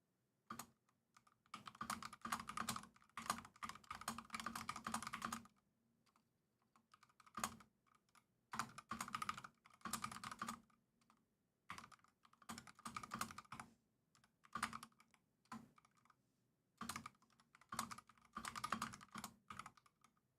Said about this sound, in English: You guys like keyboard ASMR?